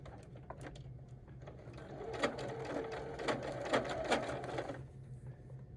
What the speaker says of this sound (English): sewing now up until our 1/4 inch seam there